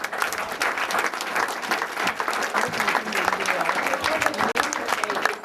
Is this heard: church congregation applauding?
yes